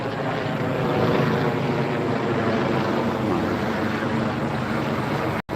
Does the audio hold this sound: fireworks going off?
no